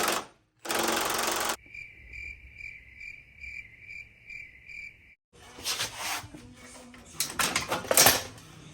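Metal being cut off a 2018 Toyota Tacoma frame section while fitting rock sliders: loud, harsh grinding bursts close by, separated by a quieter pulsing, chirping tone and short pauses.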